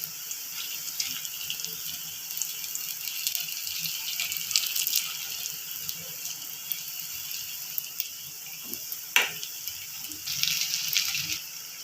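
Balls of raw rice and potato snack batter, shaped like bonda, frying in hot oil: a steady bright sizzle with scattered small pops and crackles, close by and fairly soft.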